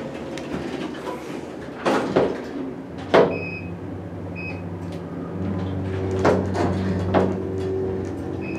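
An old Otis hydraulic elevator in Chauncey Square, Dobbs Ferry, New York, rumbles and shakes as the car moves, with a low steady drone, sharp knocks and rattles, and a few faint tonal chimes.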